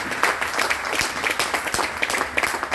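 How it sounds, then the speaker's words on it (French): Applause from the audience at a Lions Club handover ceremony in Guadeloupe, with steady, lively clapping and distinct individual claps throughout. "Sous vos applaudissements nourris"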